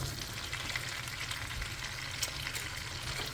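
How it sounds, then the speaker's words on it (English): Ground beef hits bubbling hot fat in a pan, giving a steady, close crackling sizzle with fine spattering pops throughout and no voices. "Okay, so my fat is getting all bubbly. I'm gonna add the ground beef."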